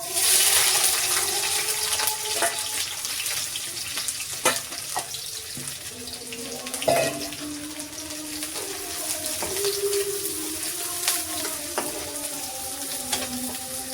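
Chopped onion with five-spice seeds fries in hot oil in a wok, giving a steady, close sizzle. Intermittent scrapes and clinks of stirring cut through the hiss.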